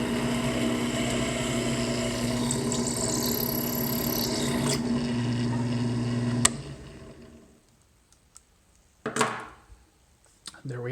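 A power drill boring out a brass shell whines steadily with a constant hum for several seconds, then stops abruptly; a few scraping clatters and rustles follow.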